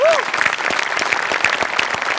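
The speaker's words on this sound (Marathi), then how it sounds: "सगळ्यात आधी सचिन मोटे आणि अभिजित पवारसाठी जोरदार टाळ्या." Steady, loud audience applause filling the room after a Marathi stage comedy performance, with dense clapping throughout and a brief voice at the start.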